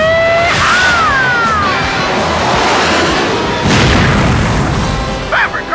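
A missile explosion in a Top Gun parody sounds as a loud, sustained boom and rumble with blast debris, with sharp swooping whistles near the start and a second burst toward the end.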